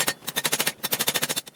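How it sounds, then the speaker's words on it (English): An angle grinder cutting into a garage door opener for scrap copper gives rapid, loud, rhythmic bursts of harsh metal grinding, pulsing about every tenth of a second with a brief pause midway. "We got grinder."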